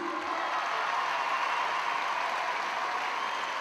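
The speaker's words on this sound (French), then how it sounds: "Je demande un tonnerre d'applaudissements pour monsieur David Félix." An audience applauds steadily in a hall during a tribute to judo champion David Félix, a dense, even wash of clapping held at one loudness throughout with no voices over it.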